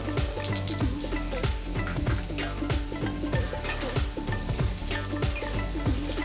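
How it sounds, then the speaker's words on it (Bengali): Potato pieces fry in hot oil in a kadhai, with a continuous loud sizzle and regular scraping stirring strokes roughly every half second, close up. "এবার আমি টুকরো করা আলুগুলো তেলের মধ্য দিয়ে ভেজে নেব।"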